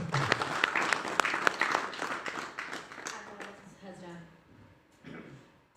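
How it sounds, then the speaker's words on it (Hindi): An audience at a mushaira poetry gathering in Tagore Theatre, Chandigarh, claps in a burst of applause that swells and then gradually thins out, with a voice speaking over the fading claps. "मैं चाहता हूँ आप तालियां एक मरतबा बजा दें"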